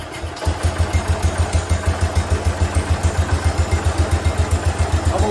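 A 1969 Cub Cadet 105 garden tractor engine cranks briefly, then catches and settles into a steady, loud, close idle with a regular chugging pulse and clatter throughout.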